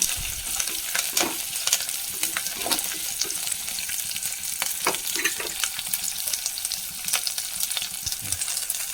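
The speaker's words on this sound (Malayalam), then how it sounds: "ഒരു അഞ്ചെട്ട് മുഴുവൻ മുളക് ഇട്ട് കൊടുക്കാം ഉണക്കമുളക് അത്യാവശ്യം നല്ല എരിവുള്ള മുളകാണ് ഇതൊന്നും മൂത്ത് വന്നോട്ടെ" Five to eight whole dried red chillies, a hot variety, frying in a pan: a continuous close crackling sizzle punctuated by scattered spatula scrapes and stirring knocks.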